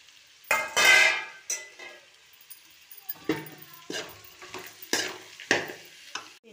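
Broad beans tipped into a hot pan after turmeric, sizzling as a spoon scrapes and stirs them in several loud bursts, with the spoon clinking against the metal between strokes.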